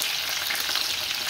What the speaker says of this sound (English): we're gonna fry the fish then